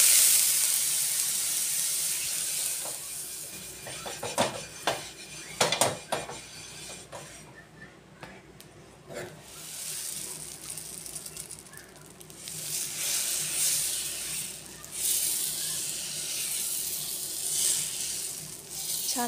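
A dosa made from ration rice roasts on a hot pan with oil, giving a faint steady sizzle, broken by a few soft clinks and scraping sounds of utensils.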